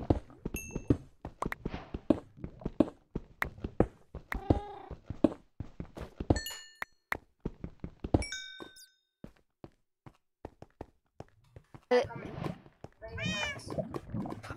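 A cat in Minecraft gameplay meows several times, short and fairly close, between rapid clicks, thuds and footsteps, with a louder, longer cry near the end.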